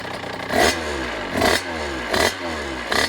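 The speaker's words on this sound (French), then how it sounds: "je vais vous faire écouter le petit bruit qu'elle fait quand même avec ce beau petit pot Twin" A 2013 Beta 50 RR two-stroke dirt bike with a 75cc kit and Twin exhaust idles roughly, running a bit rich, and blips its throttle four times in a regular rhythm, loud and close.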